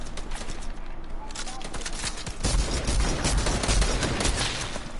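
Gunfire in a video game while aiming for headshots, rapid bursts of shots layered into a dense, continuous clatter that grows louder midway, close and sustained with no clear speech over it.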